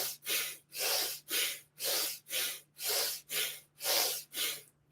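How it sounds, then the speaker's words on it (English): Deep, deliberate meditation breathing: about eight close, airy breaths alternate as inhales and exhales in a steady, even rhythm, with short pauses between them and no talking. "15 more seconds, big inhales and exhales."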